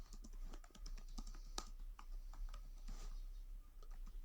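Someone types JavaScript code on a computer keyboard, quick, irregular, close key clicks with a heavier stroke now and then, over a low steady hum, with no talking.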